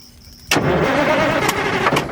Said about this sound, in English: So we've got the key on, and let's just see if she'll spin.